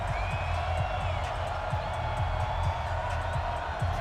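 A Baltimore stadium crowd in Madden 20 roars steadily at M&T Bank Stadium before a Ravens–Patriots kickoff, a dense, continuous wash of cheering with a low rhythmic thumping underneath.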